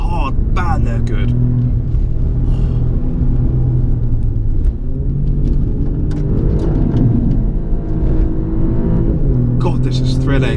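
An Alfa Romeo Giulia Quadrifoglio sports car is driven hard, its engine a loud, continuous rumble that surges as it accelerates, with a person talking over it throughout.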